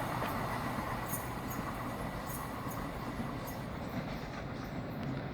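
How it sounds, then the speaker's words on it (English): A freight train rolls past nearby at Reading West in a steady, broadband rumble, with continuous rail noise and faint metallic clicks, loud and unbroken throughout. "And our freight train should be coming from this direction any moment."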